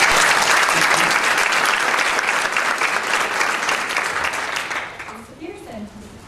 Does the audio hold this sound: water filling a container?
no